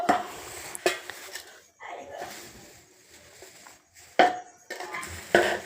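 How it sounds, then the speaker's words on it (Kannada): A spoon stirs mint powder into poha (avalakki) in a pan, making intermittent metallic scrapes and clinks with soft shuffling between them while a person talks. "ಪುದೀನ ಪುಡಿ ಹಾಕ್ರಿ ಹಾಕಿ ಮಿಕ್ಸ್ ಮಾಡಿ ಮತ್ತು ಸ್ವಲ್ಪ ಬಿಸಿ ಮಾಡಿ"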